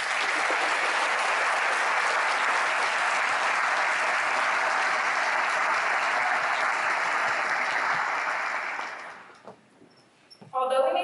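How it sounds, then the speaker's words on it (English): Sustained audience applause fills a commencement ceremony hall, loud and dense for about nine seconds, then fades to near silence before a brief burst of sound at the end. "Let's celebrate each other with a moment of applause for all of these professions."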